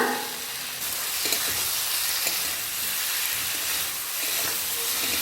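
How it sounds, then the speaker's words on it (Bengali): Potatoes and spice masala frying in a pan with a little water for a cabbage dhoka dish, a loud continuous sizzle and hiss with scattered stirring scrapes, close up and without talk. "আলুগুলো দিয়ে সামান্য একটু জল দিয়ে ভালো করে কষিয়ে নেব"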